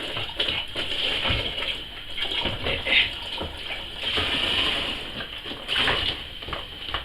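Homemade cider with hints of pine poured steadily into a container, a continuous gushing, splashing stream that swells and eases, close and fairly loud with no talk.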